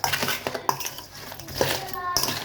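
A spoon clinks and scrapes against a bowl while mixing spicy pickled blue crab and squid salad dressing until the sugar dissolves, with quick irregular metallic taps up close.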